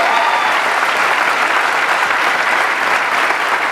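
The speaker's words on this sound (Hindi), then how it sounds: "इनके लिए एक जोरदार तालियां इन सबके लिए" A crowd applauds loudly and steadily, dense clapping filling the whole moment without pause.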